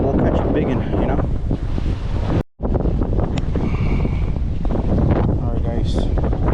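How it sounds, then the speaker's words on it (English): Strong wind buffets the microphone on the coast at night during fishing, with a loud, continuous roar and surf-like wash, briefly cut out once, and a person talks over it. "The wind is picking up real good right now"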